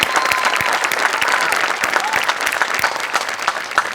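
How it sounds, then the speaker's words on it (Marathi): An audience at a live stage comedy show claps loudly and steadily, a dense sustained burst of applause with crowd noise and a voice underneath. "5 मिनिटं सलग टाळ्या झाल्या पाहिजेत ही त्यांना खरी दाद आहे"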